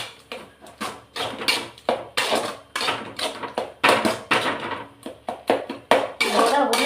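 A spoon scrapes and knocks against a cooking pan as brinjal gravy is stirred, in a steady rhythm of loud, close clatters with brief pauses between strokes.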